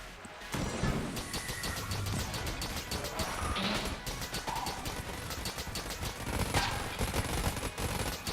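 Rapid, dense gunfire from the Hungry Bullets gun in Enter the Gungeon, a steady rattling barrage of shots with crashes and impacts over a noisy game backdrop.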